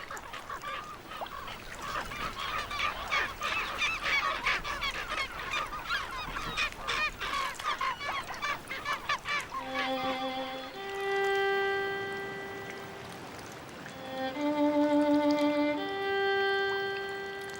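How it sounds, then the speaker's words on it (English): Gulls squabble over leftovers on an Antarctic beach in Graham Land, with harsh, dense overlapping squawks at first, then loud drawn-out wailing calls, all close and continuous. "it's disturbed by gulls quarreling over the last leftovers"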